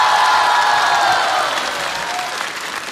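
A studio audience at a comedy roast show breaks into loud applause, dense clapping that slowly fades over a few seconds.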